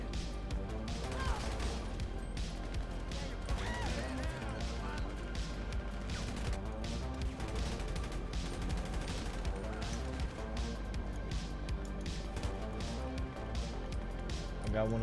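Video game police roleplay with bursts of gunfire and crashing impacts running continuously under busy, overlapping radio chatter and voices throughout.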